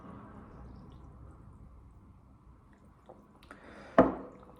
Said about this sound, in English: I got my sparkling water.